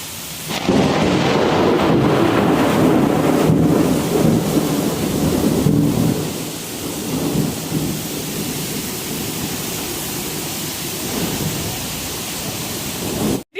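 Thunder from a storm under dark, heavy clouds, with gusty stormy wind and rain on a rooftop; loud continuous rumbling and roaring noise that dominates throughout and eases slightly midway, with no talking.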